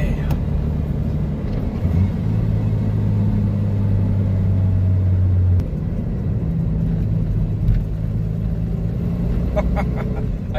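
Jeep Comanche pickup truck with new leaf springs and rear axle driving slowly in third gear, a steady low engine rumble and drone heard from inside the cab, with a few light rattles.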